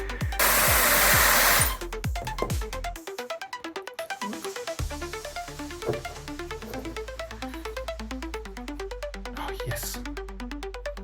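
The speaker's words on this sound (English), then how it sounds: "I'll try and heat it up with the hairdryer and pray to the gods." A hair dryer blasts loudly for under two seconds while heating a Pentium 4 CPU, followed by a long run of quieter rhythmic electronic beeping tones.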